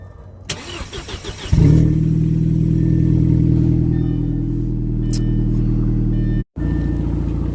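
An Audi car with an exhaust problem cranks and fires up loudly, then settles into a heavy, rumbling run with a brief cut near the end; one close, steady engine drone without talk.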